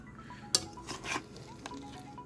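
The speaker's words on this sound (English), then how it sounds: "you're gonna keep mixing that until you get your sauce all in there good" Ribs coated in sauce are stirred in a pot on the stove, with a sharp metal clank of the utensil against the pot, then wet scraping and smaller knocks over a soft background, no talking.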